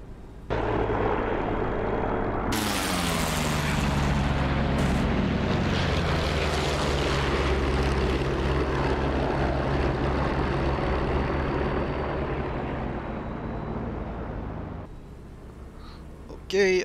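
A warbird's propeller engine in the flight game DCS roars loud and sustained, then winds down as the throttle comes back, with someone talking over the drone before it cuts out.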